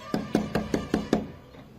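Someone knocks on a house door six times in an even, rapid series of hard wooden raps, close by, and silence follows the last knock.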